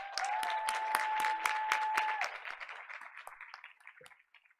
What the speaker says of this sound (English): Let's keep the applause going as we welcome Stacy Smith forward at this time.